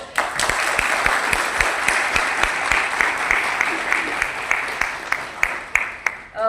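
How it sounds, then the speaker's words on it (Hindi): Sustained applause from a large audience at an awards ceremony in Lucknow, dense steady clapping with individual sharp claps standing out, continuing evenly throughout and rising slightly at the end. "Vice Chancellor sir, this applause was for you."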